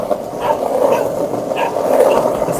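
A dog, just hit by a car, whines and whimpers in a steady, high-pitched, strained tone, continuous and fairly close, with no talking.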